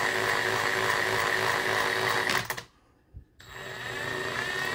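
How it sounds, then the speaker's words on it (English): Power drill whirring steadily as it spins a steam engine flyball governor for a 3 to 5 HP engine, a loud continuous motor whine that cuts out abruptly for about a second, with a faint clunk, then resumes. "I'll run the drill here."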